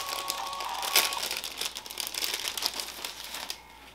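LED lighting strip for model train passenger cars being torn and gnawed with teeth, a close, steady crinkling and crunching over about four seconds with one sharper snap near the start, no talking.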